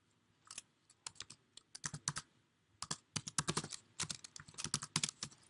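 A query is typed on a computer keyboard, with quick bursts of crisp key clicks in irregular clusters and short pauses in between, close and fairly quiet.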